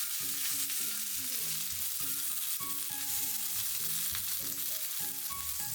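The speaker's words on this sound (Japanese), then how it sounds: "パンに多めのサラダ油をひいて揚げ焼きにしていきます" Horse mackerel shallow-frying in plenty of salad oil in a pan, a dense, constant sizzle with a few light clinks and thuds from a utensil, close up and without talking.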